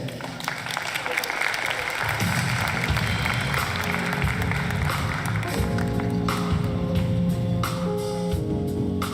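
Audience applause at a university Student Services awards ceremony in 2025, a sustained wash of many hands clapping alongside music, steady and loud throughout without a break.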